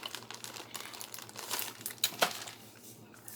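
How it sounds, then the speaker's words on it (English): A Ziploc plastic bag crinkles close by in irregular rustling bursts, with a few sharper crackles near the middle before it settles to softer handling. "I'm just going to get me a Ziploc bag"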